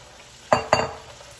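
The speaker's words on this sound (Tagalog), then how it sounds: "So add na natin yung shrimp natin" Raw shrimp hit a hot pan of garlic butter, giving two quick, close sizzling bursts about a quarter second apart that fade into a soft, steady crackle.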